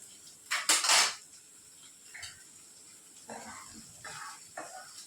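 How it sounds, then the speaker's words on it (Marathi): Cutlery clinks against plates as a home-cooked meal with a bitter gourd dish is served: a loud, close clatter early on, then sparse, softer taps and scrapes. "जेवण जेवायला बसलेलो आहोत केसरचं पण जेवण मी वाढलेलं आहे"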